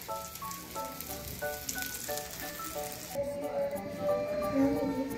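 Leftover fried potatoes sizzle steadily as they reheat in a pan, with a continuous close crackle throughout.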